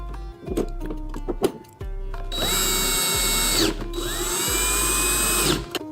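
A power drill drives screws into a TV wall mount, whirring in short bursts and then in longer, louder runs that rise and wind down, near and clear with a low hum between bursts.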